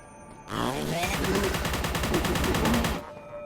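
Gunfire in Forgive Me Father, a Lovecraftian indie shooter: a loud, close, rapid burst of continuous shots lasting about two and a half seconds, then stopping abruptly.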